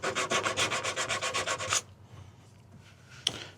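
Hand sanding along the freshly cut edges of a board while fixing a cargo trailer, a quick series of rhythmic rubbing strokes close by, then a pause and a single short scrape.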